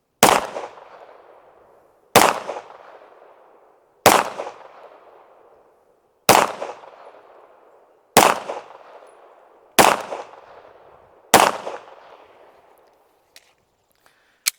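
Seven sharp, loud pistol shots from a Ranger Arms RA 9, fired at roughly two-second intervals, each with a short ringing decay, followed by a few faint clicks.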